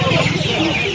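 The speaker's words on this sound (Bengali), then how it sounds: "আর এখানে মুরগি আছে দেখুন" Chickens at a poultry market, a short burst of clucking close by, mixed with background voices.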